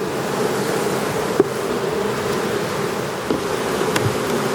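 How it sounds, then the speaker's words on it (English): A dense, steady drone of many bees buzzing close by around a hive, continuous and loud, with a few faint knocks. "lots of extra bees hanging out on the underside of this double screen board"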